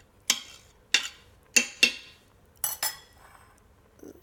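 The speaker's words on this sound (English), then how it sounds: "Just stir to mix." A utensil stirs carrot halwa with coconut milk in a pot, making about six sharp metallic clinks and scrapes against the pot in an uneven rhythm, close and clear with no talking.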